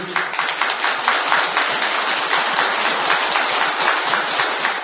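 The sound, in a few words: audience applause at a Buddhist dharma talk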